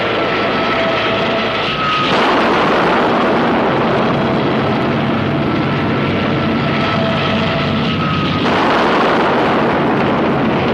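Artillery shelling in Korean War documentary footage, a loud, dense, continuous roar of blasts and rumble that swells in two heavier waves, with a faint whistle-like tone laced through the din.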